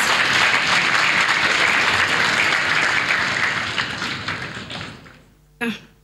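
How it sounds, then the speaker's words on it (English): A church congregation at a prophetic deliverance service claps in a dense, sustained wave that gradually fades. A single sharp knock follows near the end. "Clap for Jesus"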